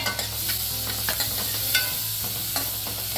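Chopped onion sautés in butter and a little oil, a close, steady sizzle broken by frequent stirring scrapes and clicks in an irregular rhythm, with no talk.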